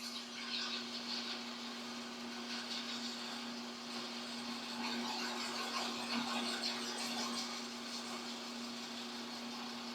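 A rotary tool bores holes for connecting wire tubes in a scale radar mast model, giving a steady, moderately quiet whine with a constant hum that holds through the whole stretch, with no voices heard.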